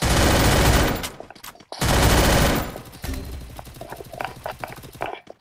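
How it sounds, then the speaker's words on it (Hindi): Gunfire from a prone enemy in the mobile battle royale Free Fire Max comes as two long, loud, dense bursts, followed by scattered fainter single shots. "उधर एक बंदा लेट के फायर कर रहा है।"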